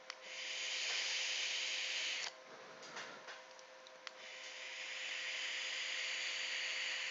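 Steady hiss of vapour drawn through an Aspire Atlantis vaporizer with the airflow wide open and thick 98% VG liquid, two long close inhalations separated by a quieter pause with faint clicks.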